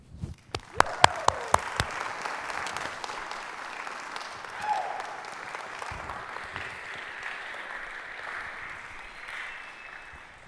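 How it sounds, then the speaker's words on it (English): An audience in a university chapel breaks into warm applause that begins with a few sharp claps and grows into steady, dense clapping from many hands, filling the room for around ten seconds before tapering. "I usually get the applause when I finish,"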